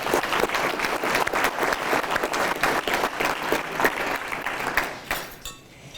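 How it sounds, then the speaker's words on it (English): Audience applause for city councillors at a mayor's State of the City address, a dense, steady clatter of many hands that tapers off and fades out near the end. "Give them a round of applause"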